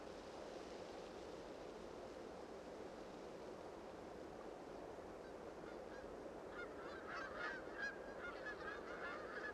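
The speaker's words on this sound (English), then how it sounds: "The wild geese are already streaming southward." Distant wild geese honking in a loose chorus as they migrate south, over a steady wash of background noise, the calls growing more noticeable toward the end.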